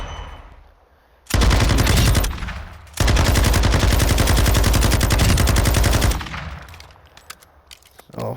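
A light machine gun resembling an M249 SAW fires in the video game Modern Warfare II, with two loud, sustained bursts of rapid automatic fire separated by a short pause, then fading to quiet.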